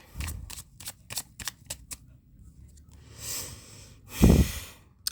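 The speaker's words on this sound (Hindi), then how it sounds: "last shuffle" Tarot cards being shuffled by hand, a quick run of crisp riffling flicks in a steady rhythm up close, followed by softer rustling and a louder thump-like handling sound near the end, with no talking.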